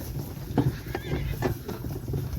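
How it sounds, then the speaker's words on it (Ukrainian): A draft horse mare whinnies in short breathy bursts, close by, over low rumbling background noise. "Вже лушечка рже."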